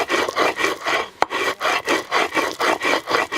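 Dried chilies are crushed by hand on a stone metate in an Oaxacan village kitchen, grinding rock on rock. Loud, close back-and-forth strokes repeat in a steady rhythm with a single sharp knock partway through.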